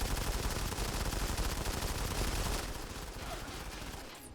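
Rapid automatic gunfire from a video game rattles on continuously and loud, then drops to a quieter, thinner patter of shots as it tails off near the end.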